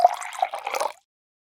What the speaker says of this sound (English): pour me some orange juice